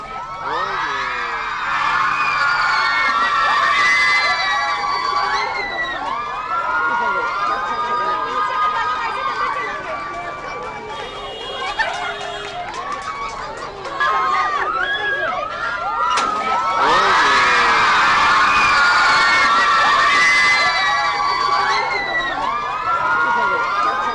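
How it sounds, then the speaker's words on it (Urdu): Female university students protest outside a gate at Lahore's Home Economics University, a dense crowd of high voices chanting and shouting continuously, with surges in loudness. "نعرے لگائے جا رہے ہیں امتحانات کا شیڈیول جاری نہ کرنے اور رول نمبر سلپ نہ ملنے کے خلاف طالبات سراپا احتجاج ہیں"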